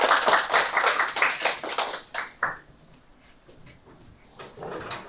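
At a sustainable development seminar, a small audience gives a burst of hand clapping for a speaker coming up, loud and quick for about two seconds before fading into quiet room noise and shuffling.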